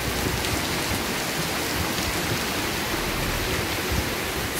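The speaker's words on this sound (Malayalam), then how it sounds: "മഴയുടെ ശബ്ദം കാരണം വോയിസൊക്കെ ചിലപ്പോൾ ക്ലാരിറ്റി കുറവായിരിക്കും കേട്ടോ" Heavy rain pours steadily and loudly at an outdoor nature spot, a dense unbroken hiss filling the whole stretch with no talk over it.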